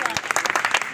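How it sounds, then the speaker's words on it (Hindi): A crowd at a parents' worship ceremony organised by Sanskar Sena claps in quick, uneven bursts, mixed with some voices. "इसलिए जोर से ताली बजाइए"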